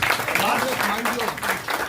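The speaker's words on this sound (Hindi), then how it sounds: "तालियां किशन जी के लिए" A crowd claps in a steady patter while a voice speaks over the applause.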